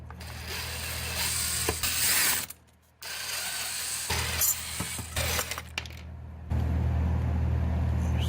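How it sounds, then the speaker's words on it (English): Phillips screwdriver backing screws out of the cover on a Husqvarna 125BVX leaf blower, giving bursts of close ratcheting clicks and small metallic rattles, split by a short quiet gap and closing on a louder handling noise. "we'll grab a Phillips and we'll pull this cover off"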